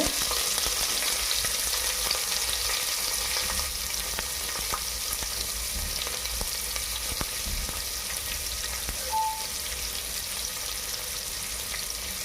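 Curry leaves and onion frying in oil in a pan, a steady moderate sizzle continuing throughout with faint scattered crackles, no voices.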